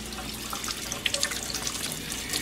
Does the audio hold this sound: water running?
yes